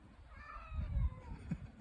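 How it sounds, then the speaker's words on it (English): A cat makes strange, warbling crying calls aimed at a neighbour's cat, a faint, drawn-out wavering cry followed by a few short low bursts. "I never heard cats crying like that."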